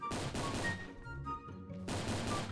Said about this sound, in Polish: Tak, zauważył, już nawet strzela do mnie.